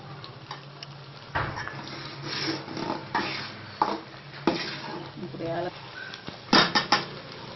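A ladle slowly stirs semolina in a pan while making rava kesari, a sweet Indian dish. Close, irregular scraping and rubbing strokes carry over a steady background hiss, with a few sharper knocks against the pan and no talking.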